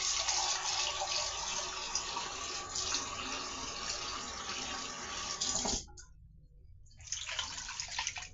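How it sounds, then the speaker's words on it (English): Water pours steadily into a pan holding pork shoulder, a loud continuous splashing stream that cuts off briefly near the end, then resumes more unevenly. "I'm going to put some water in it, not too much, not too much, probably half a cup."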